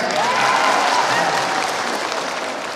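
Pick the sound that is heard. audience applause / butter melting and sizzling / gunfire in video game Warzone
audience applause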